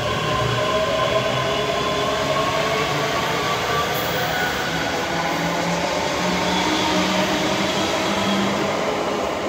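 A Class 385 electric unit on the Edinburgh Waverley to Glasgow Queen Street service rolls past at Edinburgh Haymarket, giving a continuous close rumble with steady motor hum and tonal whine throughout.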